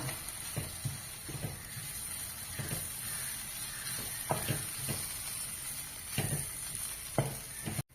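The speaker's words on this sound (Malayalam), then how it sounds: "കുരുമുളക് പൊടി മഞ്ഞപ്പൊടി ഇതെല്ലാം ഇട്ട് ഒന്ന് വഴറ്റുക" Pepper powder, turmeric and garam masala sautéing in a pan for a prawn ball curry, a continuous soft sizzle with regular stirring scrapes every second or so, fairly faint and close.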